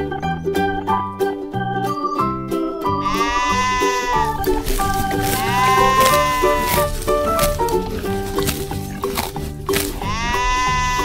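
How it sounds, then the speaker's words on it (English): Sheep bleating in a farm animal sound lesson, several loud wavering bleats from more than one animal over a steady music bed, with repeated calls through the middle and again at the end. "And again, more sheep."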